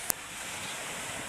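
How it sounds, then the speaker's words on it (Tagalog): Strong sea waves wash onto the shore as a steady, loud roar with wind buffeting the microphone, broken at the start by one short sharp click. "matatakot ka talaga kasi ang lalakas ng alon dito"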